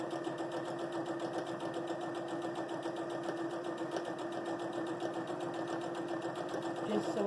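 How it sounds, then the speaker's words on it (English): A sewing machine basting fabric pieces for a flying geese quilt block at 1/8 inch, a steady rapid stitching whir running throughout, close and even. "you're going to just baste it at 1/8 of an inch"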